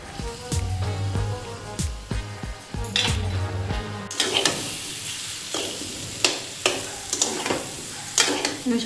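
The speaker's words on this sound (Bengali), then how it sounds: "একটু করে জল দিয়ে দিয়ে ভালো করে আলুগুলোকে মশলার সাথে কষিয়ে নিচ্ছে।" Potatoes and spices being stirred and fried for dum aloo, with a steady sizzle under repeated scrapes and clinks of a spoon against the pan, close and fairly loud throughout.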